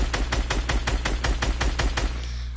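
Video game gunfire rings out as a rapid, evenly spaced string of about ten loud shots over roughly two seconds, close and punchy, then stops.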